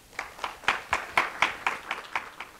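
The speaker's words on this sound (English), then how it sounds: "So if you would please applaud Dr. Makirola." A small lecture audience claps in a steady rhythm, about a dozen distinct claps, moderately close with no talking.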